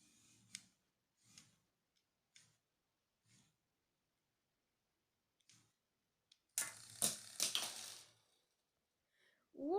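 A ballpoint pen clicks faintly and close by, about five evenly spaced soft clicks, followed by a louder burst of rustling handling noise.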